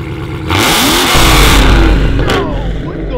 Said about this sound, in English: Let's just start it up, boys.